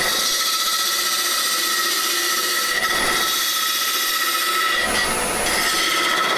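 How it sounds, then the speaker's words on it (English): A woodturner shear-scrapes a wooden lamp base on a lathe, a continuous loud scraping hiss with a bright, squealing edge and slight swells, no talk over it. "almost like a shear scraping"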